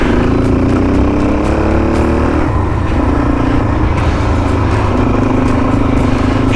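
A motorcycle cruises gently through a small town, its engine humming loud and continuous close by, with a slight shift in pitch partway through as the rider changes pace.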